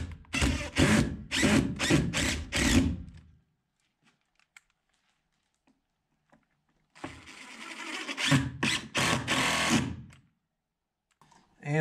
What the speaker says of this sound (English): I like to pre-drill the hole anyways